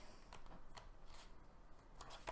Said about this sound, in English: I'm just cutting these little dots out